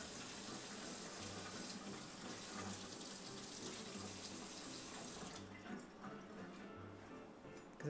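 A kitchen tap runs steadily while something is rinsed under it, a close, even stream of water that cuts off abruptly about two-thirds of the way through, leaving a quiet room.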